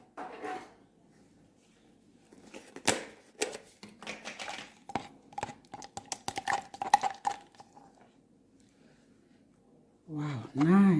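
A metal spoon clinks and scrapes against a dish while sugar and cream are added to krummelpap, a series of sharp irregular taps and clatters, close, followed by a brief voice at the end.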